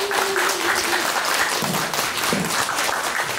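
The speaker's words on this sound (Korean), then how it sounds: "박수 한번 부탁드립니다." Audience applause at a college graduation rock concert in a live hall fills the space in a steady wash of clapping, with faint tonal sounds from the room underneath.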